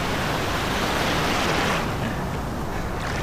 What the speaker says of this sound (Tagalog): At meron ng pangalawang alon na paparating.